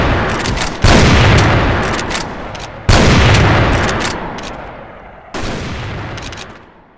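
Rapid automatic gunfire from the first-person shooter CrossFire comes in three loud, dense bursts, each starting abruptly and then trailing off, with brief gaps between them and no voices.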